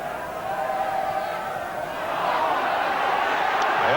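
A football crowd of about twenty thousand at Loftus Road stadium roars during a second half between Queens Park Rangers and Manchester United, a distant, sustained wash of cheering that swells louder midway.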